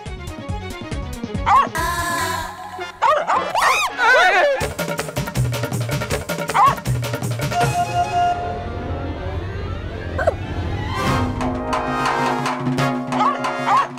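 A person imitates a puppy with a string of yips, whimpers and barking sounds, loud and close, mixed with background music and other voices.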